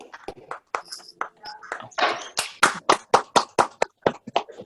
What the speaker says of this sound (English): give Ken the best round of applause we can on Zoom